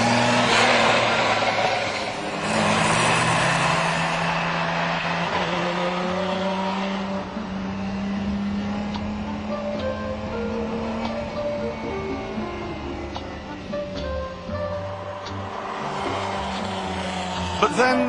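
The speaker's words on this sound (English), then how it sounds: "Driving the Miura today is evocative, nostalgic." A Lamborghini Miura sports car engine drones steadily while driving, its pitch rising and falling with the revs, loud and close, while someone talks over it.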